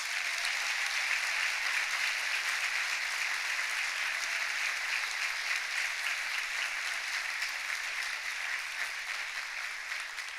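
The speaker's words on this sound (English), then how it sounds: "Would you give them a rousing round of applause?" A large audience at a college presidential inauguration gives a sustained, rousing round of applause, a thick, even roar of clapping that holds steady throughout and tapers only slightly near the end.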